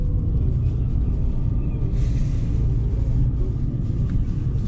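A 125 cc motorcycle rides along a road through a bend, its engine a steady low rumble that rises and eases as it speeds up and slows, with wind noise throughout.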